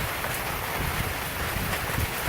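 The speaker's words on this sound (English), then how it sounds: "Still raining. Hopefully the rain stops at some point." Steady rain falls during Hurricane Harvey, a dense and even hiss that stays constant at moderate volume with no voices.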